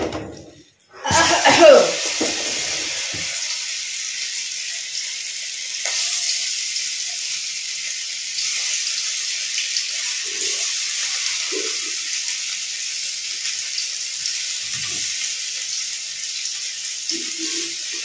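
Chili chicken frying in a pan on a gas stove, a steady close sizzle that starts after an opening clatter and runs unbroken throughout, with a few faint clinks and soft sounds over it.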